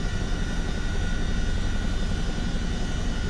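Twin turbine engines of a CH-47D Chinook helicopter idle steadily in Microsoft Flight Simulator 2024 after startup, a loud constant broadband whine and rumble with no talk over it.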